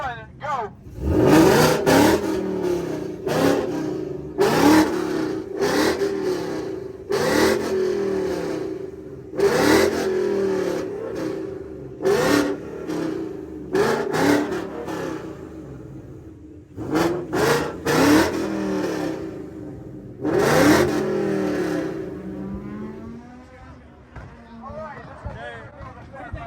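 A Ford Mustang revs hard and accelerates at a car meet drag race, engine roaring in repeated loud bursts as it shifts, with crowd voices and cheering around it.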